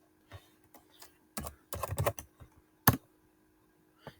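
Someone types a name on a computer keyboard in a Kali Linux terminal. The keystrokes come as quiet, close clicks in short bursts with pauses between them.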